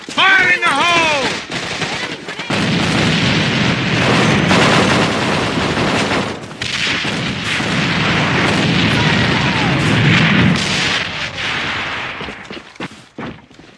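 Grenade blast and rapid gunfire in the online shooter AVA, with loud bursts of shots and booms running almost continuously, while players shout over the action.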